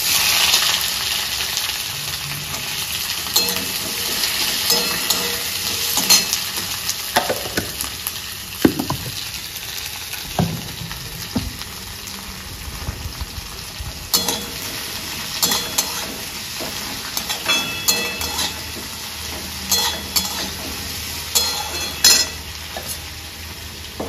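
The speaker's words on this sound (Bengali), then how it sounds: "আমার কড়া গরম হয়ে গেছে, চলো পেঁয়াজটা ছাড়ি।" Onion fries in a hot kadai, a continuous loud sizzle close up, broken by clinks and scrapes of a metal spatula as it is stirred, with wind rumbling faintly outdoors and no talking.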